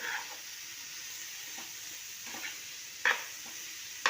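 Steamed mahua flowers stirred into a hot pan of sizzling oil for a bhaji, giving a soft continuous fry with a few spoon scrapes and clicks against the pan.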